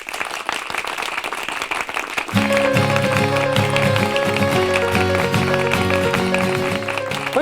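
An audience breaks into loud, sustained applause, dense clapping from a crowd, and then music with a steady beat comes in beneath it for the rest of the moment.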